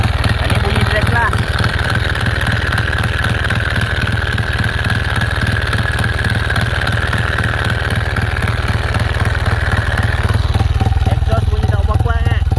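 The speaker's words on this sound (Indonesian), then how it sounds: "Ini bunyi drag lah." Motorcycle fitted with an EKZOS back-pressure exhaust, revving in a steady drag-style run, a loud continuous engine drone with a sustained mid-pitched tone that drops off near the end.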